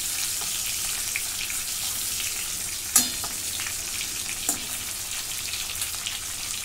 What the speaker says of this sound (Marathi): आता मिरच्या पलटी मारून घेते. ती बाजू पलटून पलटून मी वाफेवरती भाजून घेते.